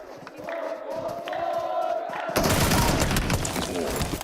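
A grenade bursts and gunfire crackles in a PUBG Mobile esports match, a loud wash of explosive noise and rapid shots erupting midway, preceded by quieter game sounds and excited casters talking.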